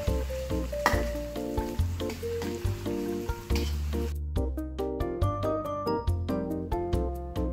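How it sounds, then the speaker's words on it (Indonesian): Shallots and garlic sizzle in hot oil, a steady crackling hiss under loud melodic background music; the frying is clearest in the first half, then the music dominates. "Begitu minyaknya panas, masukkan bawang merah dan bawang putih ya. Masak hingga harum dan kecoklatan."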